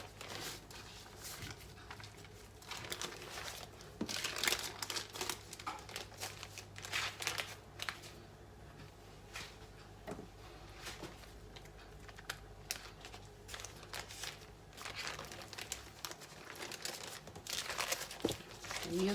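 Baking paper being crinkled and handled while preparing a minced meat and potato dish, irregular close rustles and crackles in bursts, with some talking.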